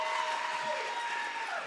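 At an awards celebration, an audience claps in a brief, steady burst of applause, heard at moderate distance with a faint tonal hum running underneath.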